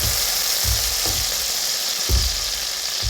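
Butter sizzling and frying in a pan while making Pan Haggerty, a steady hiss with a few soft low thumps, close and continuous with no talk.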